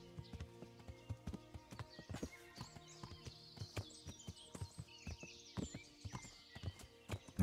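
Horse hooves clip-clop at a steady riding pace in the medieval game Kingdom Come: Deliverance, crossing toward a bridge, a clear rhythmic clatter of many footfalls with a faint whinny near the end.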